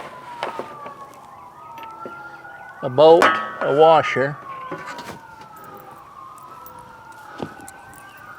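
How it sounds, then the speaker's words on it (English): An ambulance siren wailing in rising and falling sweeps along a busy road, moderately distant and steady under a man's speech, with brief clinks of garden-bed hardware nearby. "every day, all day long ambulances run up and down this road"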